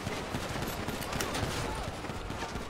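Dense, continuous multiplayer video game shootout with overlapping gunfire crackling steadily throughout, moderately loud, with voices talking faintly underneath.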